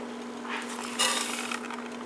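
A tablespoon of olive oil heating in a pan, giving a steady close sizzle with a faint hum underneath that brightens briefly in the middle.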